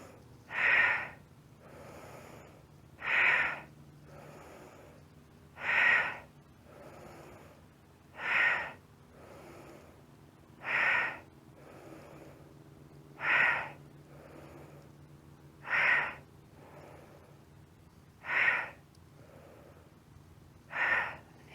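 Regular, forceful breaths through the nose during a Pilates exercise, about nine evenly spaced huffs a couple of seconds apart, close and clear against quiet surroundings.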